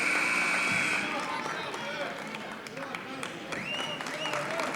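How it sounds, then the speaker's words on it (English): Crowd applause fills a high school girls' basketball gym during a free-throw break, steady broadband clapping and cheering throughout, with squeaks and voices mixed in. "comes out to well-deserved applause"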